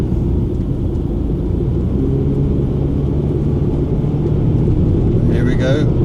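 Honda S-MX driving along the A38 in Cornwall, a steady loud interior road rumble and engine drone, with a voice talking briefly near the end.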